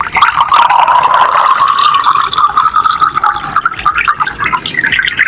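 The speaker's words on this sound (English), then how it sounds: "these are different water pouring sounds" Water pouring into a glass as a sound effect, a continuous bubbling gurgle close and loud that runs steadily for several seconds with no talk.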